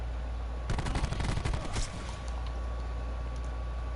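Maddox assault rifle firing in Call of Duty Black Ops 4, a loud rapid burst of automatic gunfire lasting about a second, followed by quieter game ambience with no talk.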